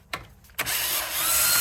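A power tool with a socket removing tire lug nuts, with a couple of brief clicks followed by a sustained loud whirring spin, close by.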